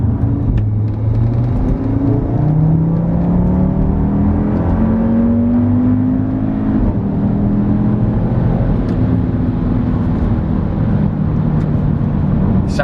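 Audi RS3 five-cylinder engine with secondary decats, pulling hard in sport mode down a motorway slip road: a loud, close, continuous rising roar climbing through the revs with gear-shift dips, steady and alone with no talk.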